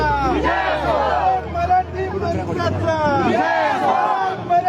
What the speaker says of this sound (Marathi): शिवसेनेचे कार्यकर्ते जल्लोष करताना दिसत आहेत